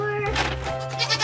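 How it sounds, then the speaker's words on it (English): Goats on a small farm bleating at chore time, a couple of short nearby bleats over a steady low hum, with faint voices in the background. "let's take care of the goats before Clover has a heart attack"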